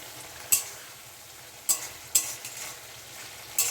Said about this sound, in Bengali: পনিরটা ভেজে নিয়েছি আর ওখানে আলু আর টমেটো কষিয়ে নিচ্ছি